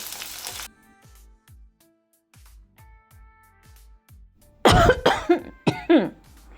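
Green chilies fry in oil, a short sizzle at first, then quiet ticking, followed by a burst of several harsh, close coughs from the pungent chili fumes.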